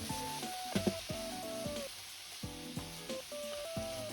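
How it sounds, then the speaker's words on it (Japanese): The firm white bulb part of leaf onions is stir-fried in a pan with meat, giving a steady close sizzle broken by a few sharp clacks of a utensil stirring and tossing. "葉玉ねぎのね、下の根っこのところ、玉ねぎ部分、ここがね、硬いので、こいつをね、先に炒めてやります"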